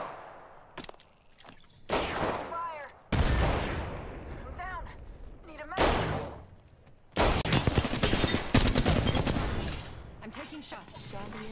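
Bursts of loud gunfire and impacts from the video game Apex Legends come in several rapid volleys separated by quieter gaps, with a player talking over parts of it.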